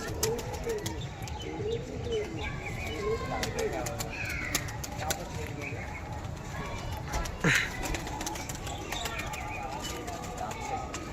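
Desi pigeons, a long-bodied pair kept at a fancier's loft in Howrah, coo repeatedly in soft rolling phrases with scattered chirps, close by and under steady conversation.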